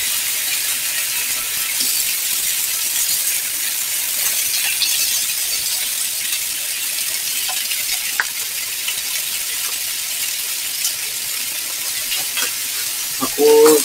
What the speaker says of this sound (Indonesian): Tinggal masak tempenya.